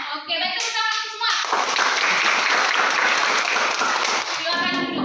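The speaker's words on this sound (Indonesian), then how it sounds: "tepuk tangan semua" A classroom of students breaks into loud, dense applause for several seconds, framed by a teacher's voice speaking briefly at the start and end.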